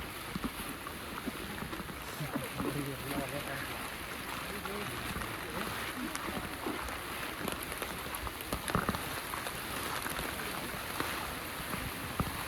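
Steady monsoon rain patters continuously at the Bisile Ghat viewpoint, a dense hiss of drops with faint voices in the background.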